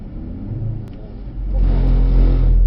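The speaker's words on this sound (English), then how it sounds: "So gradually build the revs up." A Mercedes-AMG C63S E-Performance W206 on a race track gives a low engine rumble whose revs build gradually, swelling louder and deeper over the last second or so.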